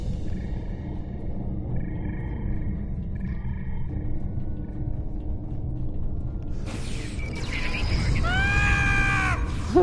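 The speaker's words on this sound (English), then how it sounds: "that scream gets me every time" A dramatic scream rises in Star Trek Online over a low mechanical rumble and game ambience, arriving late as a loud, wavering wail with descending, siren-like tones.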